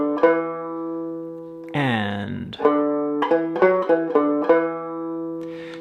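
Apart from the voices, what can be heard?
banjo playing measure 4 into 5 of Road to Lisdoonvarna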